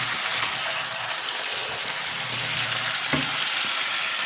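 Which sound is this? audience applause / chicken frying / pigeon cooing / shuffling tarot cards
chicken frying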